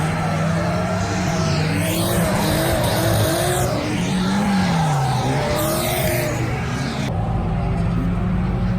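Drift cars, including a Toyota MR2, roar continuously around Nikko Circuit in Japan during a Formula D licensing event, engines rising and falling with tire squeal and skidding as they slide past at close range.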